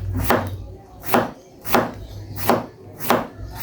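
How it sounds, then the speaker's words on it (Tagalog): A knife slices pork on a cutting board in five evenly spaced chops, each a sharp close thud with a short scrape, alone without talk. "slice natin yung pork, good size"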